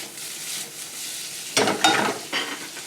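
Diced smoked pork cooks in a hot pan, giving a soft sizzle that is broken by a few close scraping stirs, with no voices.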